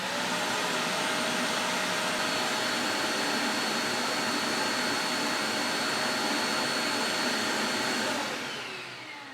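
A Hart shop vacuum from Walmart runs steadily at full power, a loud, continuous broadband roar with a faint whine, then spins down and fades near the end.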